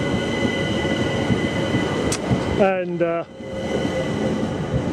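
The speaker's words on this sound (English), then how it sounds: "So this is the train I'm going to catch" A London Overground train sits at Kenton station with a steady electric hum, then a short run of tonal beeps or chimes sounds as doors operate; a speaker talks briefly.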